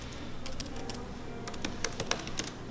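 Quick clicks of keys on a computer keyboard as someone types a short entry into an online form, close and fairly quiet in short irregular bursts over a low background hum.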